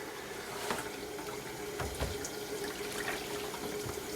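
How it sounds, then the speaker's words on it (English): Hot water runs steadily over a gelatin dye transfer print, a constant splashing flow from a tap with a few louder gushes and knocks in between. "That's hot water, obviously."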